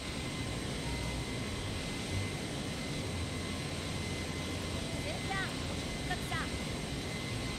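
A steady airplane engine drones in LEGO Marvel's Avengers, a dense, constant broadband roar filling the whole stretch, with a few faint chirping game effects near the end and no clear talk.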